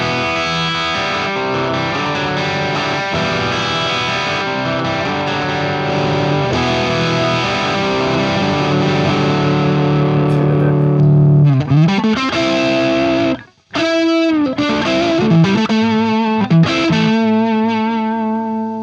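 A Gibson Les Paul Studio electric guitar with an ebony fingerboard, played at full volume, rings out in loud, distorted, sustained chords and bends, thick and slightly muffled, with a brief sudden cutoff before playing resumes.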